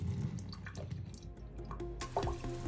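Water pours out of a glass bio-orb container in a short, close series of gurgles and splashes, ending in a final slosh.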